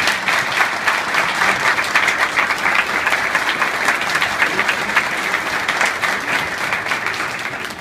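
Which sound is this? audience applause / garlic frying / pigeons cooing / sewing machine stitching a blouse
audience applause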